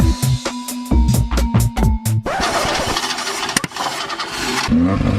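A Chevrolet Nova's engine cranks in several short bursts, catches and fires up, then idles rough and loud before a few revs, close by with no talking.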